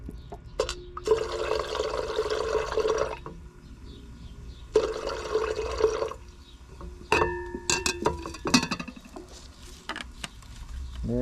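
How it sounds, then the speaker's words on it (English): Nitric acid boiling in glassware while refining placer gold: loud, steady bubbling and liquid churning in long surges, broken by short pauses and a few glassy clinks. "Nitric acid boil number 1."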